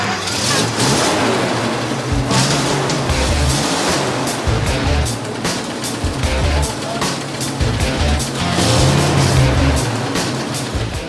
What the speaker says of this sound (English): Hopefully, the new distributor cap will get the M3 firing.